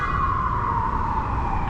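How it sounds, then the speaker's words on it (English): A loud, close emergency siren holds a steady wailing tone that drifts slowly downward in pitch, with nothing else audible over it. "that siren is loud as fuck"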